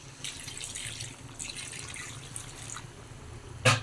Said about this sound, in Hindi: अब एक बाद में डालूँ थोड़ा से पानी,